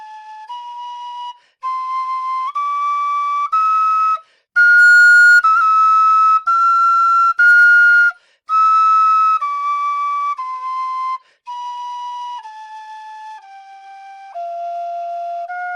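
A Kerry Thunderbird tin whistle plays a scale up and back down as clean, separate sustained notes, each held about a second with short breaks between, loud and close with no talking.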